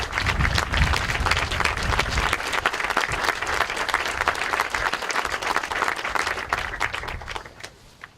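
A crowd at the ceremonial opening of a new track and field claps loudly and continuously for about eight seconds, a thick, steady patter of many hands that thins slightly at the end.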